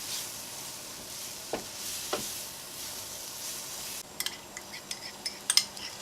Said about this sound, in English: Now it's time to add the ground korma spices into the pan